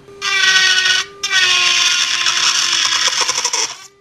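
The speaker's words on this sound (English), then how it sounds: "we're just gonna take this e-file here and we're just gonna turn it all the way up to 35" A Melody Susie Jade Plus nail e-file drill spinning at full speed, set to 35, a loud, steady high-pitched whine that cuts out briefly, restarts, then wavers and sputters as it is steadied before stopping.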